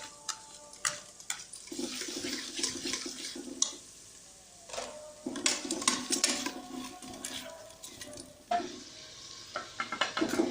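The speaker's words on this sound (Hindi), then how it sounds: "प्याज और अदरक लहसुन हमारा फ्राई हो रहा है" Onion, garlic and ginger sizzle quietly in ghee in a pan while a utensil stirs and scrapes intermittently, with soft clinks between bursts of frying.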